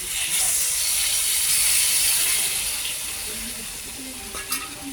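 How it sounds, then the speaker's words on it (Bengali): Water is poured into a pan of sizzling soybean curry, giving a steady close frying hiss and sizzle that holds strong, then eases slightly, with a few small pops near the end. "এইবার পরিমাণ মতো জল ঢেলে দিলাম।"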